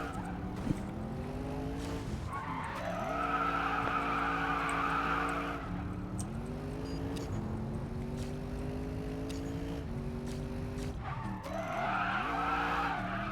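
Engine roar of an RS7 race car in the Racing Master game, revving hard while drifting, with sustained tire squeal and rising, falling engine pitch across repeated gear-shift sweeps, loud and continuous with no talk.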